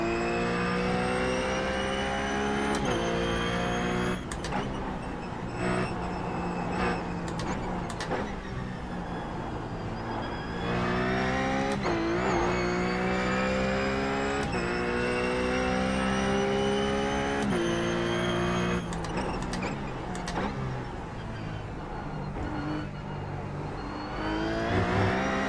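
RUF Cup race cars lap Imola in iRacing, with a loud, steady engine drone rising and falling through gear shifts and revving over a long continuous stretch.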